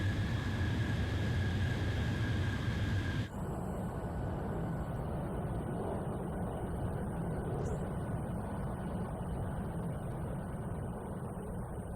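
A jet fighter in the Ace Combat Zero video game rolls for takeoff with a steady, loud engine roar. A high whine cuts out partway through, and the engine then settles into a broad continuous rumble.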